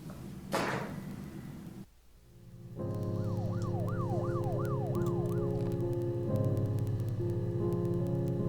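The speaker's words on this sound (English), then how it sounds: "I heard a police siren after that, which was weird." A video game police siren wails, rising and falling rapidly in a repeating pattern over a steady low hum, moderately distant and continuing for several seconds.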